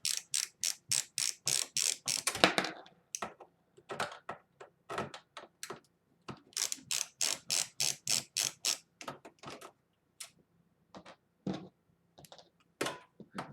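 Ratcheting screwdriver fitted with a quarter-inch socket backs out standard Phillips screws from the rear of a desktop PC power supply, giving close, crisp bursts of rapid clicking in repeated strokes with brief pauses between them.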